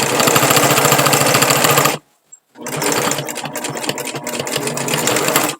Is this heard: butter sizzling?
no